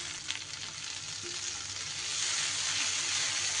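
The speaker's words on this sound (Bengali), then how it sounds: "মশলাটা খুব ভালো করে কষিয়ে নিতে হবে" Spices for a pointed gourd dish fry over low flame in a pan, a continuous soft sizzle that swells slightly toward the end, close by with faint stirring and no voices.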